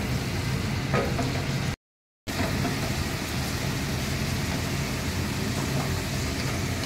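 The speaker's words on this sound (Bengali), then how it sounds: "এই পেঁয়াজের সঙ্গে একসঙ্গে ভাজা হয়ে যাবে।" Onion and garlic fry in oil in a pan as part of making tomato rice. The sizzle is loud, steady and broadband, and runs continuously apart from a brief silent gap.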